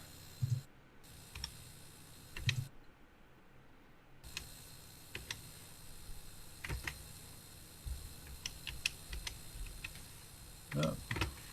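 Typing on a CoCo computer keyboard at a vintage computer festival, with irregular clusters of light clicks and taps over a hissy room background, some keystrokes louder than others.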